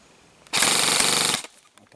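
Krytac LMG Enhanced airsoft light machine gun on an 11.1V LiPo battery fires one loud, continuous full-auto burst of just under a second. It has a harsh, buzzing mechanical rattle, with a faint voice before and after.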